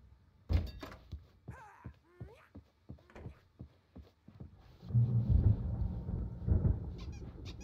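Rolling thunder from an approaching storm in a video game: a low, loud rumble swells and lingers through the second half, after a run of scattered dull thuds and short voice-like sounds.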